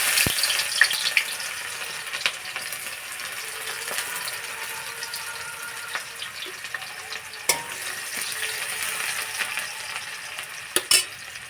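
Chopped onion with a dried chilli sizzles in hot oil left from frying peanuts in a wok, a steady crackling hiss broken by occasional sharp stirring clinks and scrapes.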